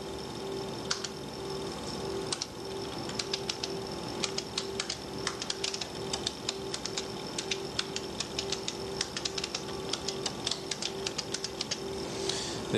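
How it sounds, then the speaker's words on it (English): Keys on a computer keyboard click in irregular bursts as data is typed in, crisp taps scattered over a steady low electronic hum. "The data that we have here was typed in from the keyboard."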